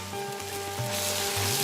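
Paste of ginger, garlic and chili peppers sizzling in a hot pan, a steady close frying hiss that swells slightly, with no talk.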